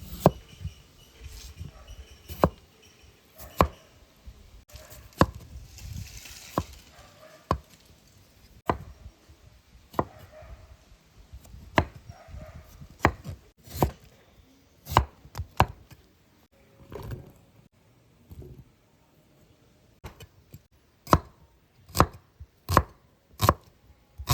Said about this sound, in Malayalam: കിഴങ്ങുള്ളി നമ്മൾ നന്നായിട്ട് കഴുകി എടുത്തിട്ടുണ്ട് നമുക്കിത് പീസ് പീസാക്കാം